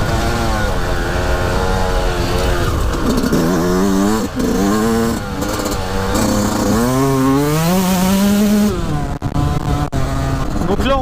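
A 2020 Yamaha YZ 125 two-stroke dirt bike, prepared for off-road racing, is ridden hard, its engine screaming and rising and falling in pitch through gear changes, loud and close the whole time.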